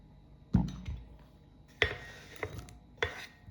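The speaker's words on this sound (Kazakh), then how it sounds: "Қиярды осылай кубик қып тураймыз." A knife on a cutting board dices cucumber into cubes in a home kitchen, giving four sharp separate chops spaced about a second apart against a quiet background.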